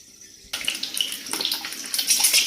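A sudden loud sizzle as eggs hit hot oil, then continuous crackling and spitting that grows slightly louder; no voices.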